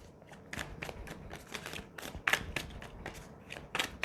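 Tarot cards being shuffled by hand, giving a run of soft, rapid riffling and flicking bursts with a few sharper snaps, close and fairly quiet with no talking.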